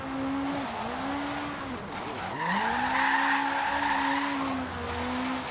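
A rally car from the Hoonigan car pack drifts and skids off-road in a driving game, its engine note rising and falling through the slide while tires squeal loudly across the middle of the clip.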